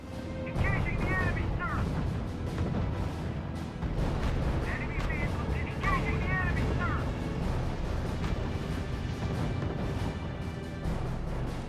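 Artillery and gunfire in the strategy video game R.U.S.E., a dense continuous barrage of booms and shots under a radio voice and spoken commentary.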